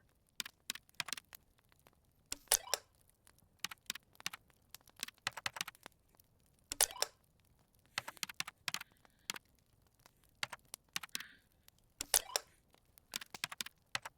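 Short bursts of typing on a computer keyboard, crisp key clicks in quick clusters separated by brief pauses, close and fairly quiet against a silent background.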